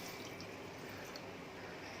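Water is poured into a pot on a gas stove, a continuous soft splashing and trickling at low level with faint drips, steady for the whole moment.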